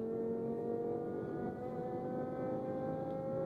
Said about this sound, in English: Sounds like an F10 M5, doesn't it?